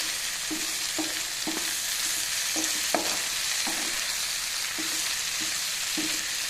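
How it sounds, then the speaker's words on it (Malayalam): Cauliflower fry with sauce sizzles in a pan over a high flame while a spoon stirs it. The scrapes come at a steady, repeated rhythm over a constant hiss of frying, nearby and moderately loud. "സോസ് ആഡ് ചെയ്ത് മിക്സ് ചെയ്യുമ്പോൾ സ്റ്റൗ എപ്പോഴും ഹൈ ഫ്ലെയിമിലാണ് ഇട്ട് കൊടുക്കേണ്ടത്"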